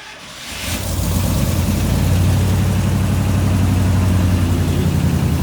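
Engine of a 1967 IH Loadstar 1600 truck firing up and settling into a loud, steady, low rumbling idle, close by and alone.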